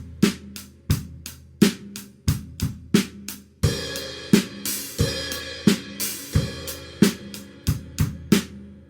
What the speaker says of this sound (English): the main groove of the song is bass, snare, bass, bass, snare. And you're going to play that 2 times, closed hi-hat, with a crash on the first measure